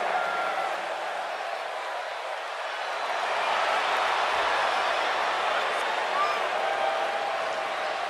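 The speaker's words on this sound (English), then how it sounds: "it sounds to me like the crowd is more than ready for this one" Large wrestling arena crowd roaring and cheering before a women's battle royal, a steady dense wall of noise that swells slightly midway, with commentary voices beneath.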